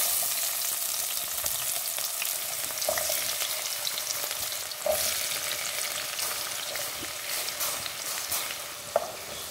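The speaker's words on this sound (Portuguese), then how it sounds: "eu vou fritar primeiro a cebola e o pimentão" Onion and bell pepper fry in hot oil in a home kitchen, a dense continuous sizzle broken by a few soft taps of a wooden spoon, close and steady without talk.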